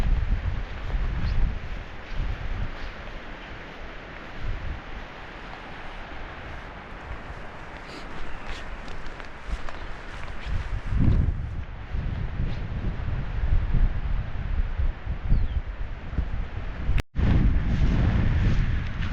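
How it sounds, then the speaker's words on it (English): Gusty wind blowing down by the Carson River in the Eastern Sierra, a loud, continuous rushing roar buffeting the microphone, with surges and a sharp knock near the end. "The wind down here has picked up."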